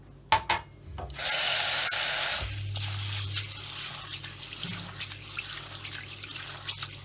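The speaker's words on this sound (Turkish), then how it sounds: "İlk önce buğdayımızı yıkayalım." Buckwheat being washed in water: a few sharp knocks, then a burst of running tap water, followed by soft sloshing, dripping and rubbing of the grains in a bowl, close and moderately loud.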